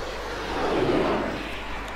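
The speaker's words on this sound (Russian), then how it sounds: "Так, самолеты летают." Airplanes flying overhead in the video game ArmA III, a broad roaring engine drone that swells to a peak midway and then eases off, steady and continuous with no talk over it.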